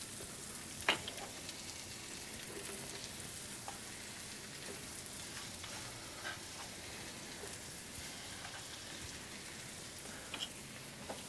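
Mushrooms frying in a pan with a little olive oil, a steady soft sizzle and crackle throughout, faint and even with a few small pops.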